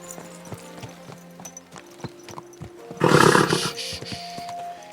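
Horse hooves clip-clop at a steady walking rhythm in the medieval game Kingdom Come: Deliverance II, joined midway by a sudden loud, broad whoosh of noise lasting about a second.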